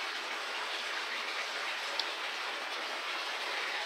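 Steady indoor pool water running, a constant, even hiss and rush at low-moderate level with no breaks, heard alone with a tiny click midway.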